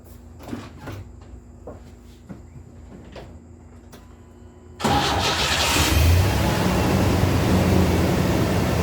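A few faint clicks and clunks come first. Then a Chevrolet Silverado engine cranks and catches suddenly and settles into a loud, steady, rough idle close by.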